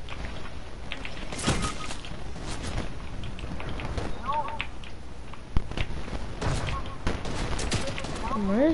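Rapid bursts of gunfire in a Fortnite match, sharp repeated shots layered over constant game noise, with a player's voice talking throughout.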